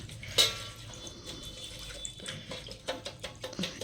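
A freshly cut tulsi root is rinsed in a vessel of water to clear off soil, with soft splashing and trickling and a sharper splash near the start, close by and fairly quiet.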